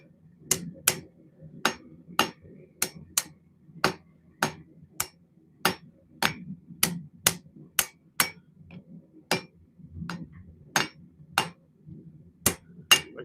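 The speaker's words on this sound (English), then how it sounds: "This is the easiest part of knife building is the forging." A hammer rings out in steady, evenly spaced blows on hot steel being forged into a knife blade in a blacksmith shop, each strike sharp and bright, sometimes in quick pairs, over a faint low hum.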